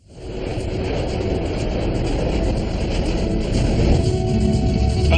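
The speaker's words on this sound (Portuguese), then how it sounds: "FedEx 705 tem permissão para decolar." A FedEx cargo jet, flight 705, takes off, its engines building from silence into a loud, sustained roar that swells slightly toward the end, heard alone with no talk.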